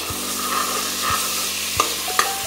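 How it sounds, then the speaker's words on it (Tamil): Tomatoes and browned onions sautéing in a pan for a Tamil palakkai sodhi, with a steady frying sizzle and a few sharp spoon clinks and scrapes as the mix is stirred, close and alone. "இப்போ தக்காளியை போட்டு அதையும் நல்லா வதக்கணும்."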